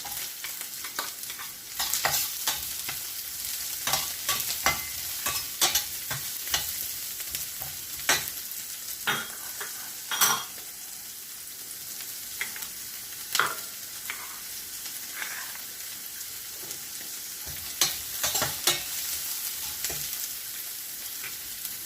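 Garlic sizzles and fries in a pan while a utensil stirs and scrapes it, with repeated sharp clinks against the pan over a steady crackle, close and alone with no talk.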